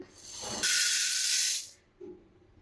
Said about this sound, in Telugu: పప్పులు ధనియాలు జీలకర్ర ఫస్ట్ అయితే వీటిని ఫ్రై చేసుకుందాం